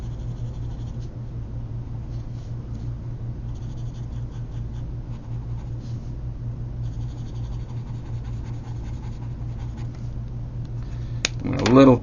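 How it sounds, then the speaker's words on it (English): Marker or pencil scratching across paper while drawing the dark inside of a cartoon mouth, a faint continuous scratchy texture with short strokes and a low hum beneath, ending in a brief louder scrape. "So with a marker or a pencil"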